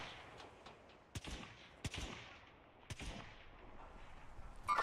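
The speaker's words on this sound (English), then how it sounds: "Somebody's shooting back." Distant gunfire in the shooter Call of Duty Black Ops 6, a few scattered faint sharp shots and short bursts over a quiet background rumble.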